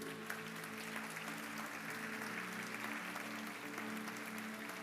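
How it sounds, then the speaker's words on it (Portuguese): A church congregation applauds during a sermon, steady clapping heard at a distance under faint sustained tones, with no speech. "Você pode aplaudir Jesus por isso?"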